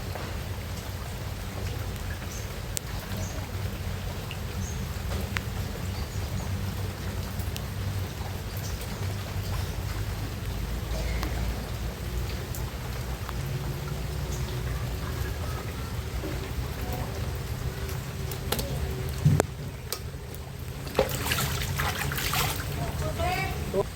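Steady, heavy rain pours down without pause during a flood, a dense hiss of drops on surfaces with a few louder clatters near the end.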